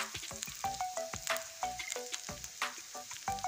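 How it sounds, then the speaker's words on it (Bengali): Onions fry in a pan for a fish curry cooked with mustard paste and eggplant, giving a crackling sizzle broken up by scraping stirs and clanks of a utensil on the pan. "যখন পেঁয়াজটা লাল করে ভেজে নিয়েছি"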